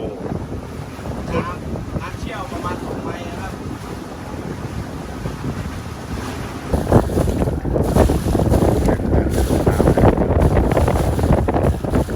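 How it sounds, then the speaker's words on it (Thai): Strong wind blows hard across the microphone on a fishing boat at sea, with a rough, gusty roar that swells louder partway through, alongside water and boat noise and brief bits of speech. "นี่คือลมแรงนะฮะ"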